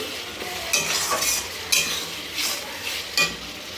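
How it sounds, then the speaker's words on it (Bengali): A spatula scrapes and stirs through tilapia fish curry sizzling in a pan, with a few sharper scraping strokes at irregular intervals. "দিয়ে কিছুক্ষণ নাড়াচাড়া করতে হবে"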